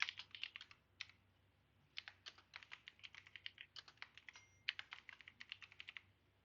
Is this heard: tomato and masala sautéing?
no